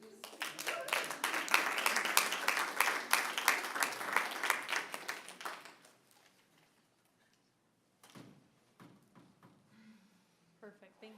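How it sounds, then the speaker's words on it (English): Audience round of applause at a city council meeting, loud clapping for about six seconds that stops abruptly, followed by quiet room noise, a few knocks and brief talk. "if we can give everybody a round of applause, please"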